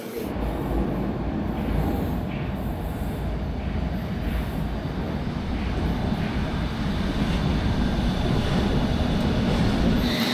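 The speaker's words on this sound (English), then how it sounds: "Right, next train will be here in 2 minutes." A London Underground train rumbles loudly and continuously as it arrives and rides, with wheels squealing against the rails and a steady metallic roar filling the whole stretch, no one speaking.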